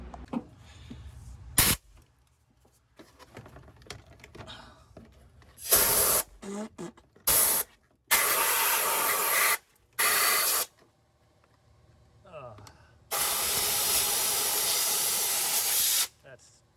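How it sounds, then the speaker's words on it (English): Compressed-air blower blasting debris out of a Crown Vic, several loud hissing bursts of a second or so with one long blast near the end, separated by quieter gaps with faint mumbled talk. "maybe get the air blower out and see what I can do to get all that crap out of there"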